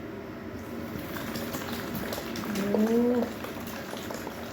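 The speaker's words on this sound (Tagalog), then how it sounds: "lagyan natin ng gatas" Milk pours into a sweet dessert mixture in a home kitchen, a steady liquid gurgle with a brief thin whistling tone partway through, heard close against a soft background hiss, with one short spoken exclamation.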